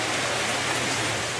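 Steady rain falls in a dense, even wash of patter that holds at the same level throughout, with no voices over it.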